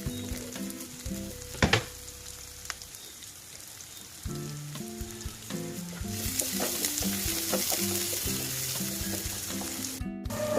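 Onions and cumin seeds frying in oil for a paneer curry, a low sizzle that swells into a dense crackling fry about midway through, with occasional spoon knocks and a faint tonal hum, close by and no talking.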